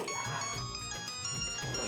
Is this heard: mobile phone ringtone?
yes